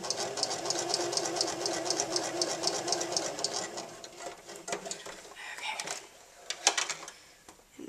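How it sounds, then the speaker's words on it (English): A sewing machine runs in fast, rhythmic bursts while stitching bias tape with mitered corners, then slows to a few short stitches and pauses near the end; a voice briefly speaks once. "So I'm just going to sew on this line."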